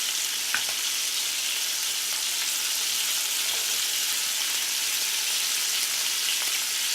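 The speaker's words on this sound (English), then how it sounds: "Get your bacon on the pan flat, as flat as possible." Bacon laid flat in an oiled pan sizzles and fries with a steady, dense crackle, close up and alone with no voices.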